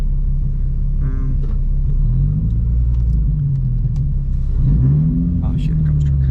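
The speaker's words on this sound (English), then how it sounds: "here comes a truck" A truck approaches along a road where a Nissan 350Z with a VQ35HR engine swap sits, its engine rumble building steadily and loud over several seconds with a brief rising revving note, while someone talks over it.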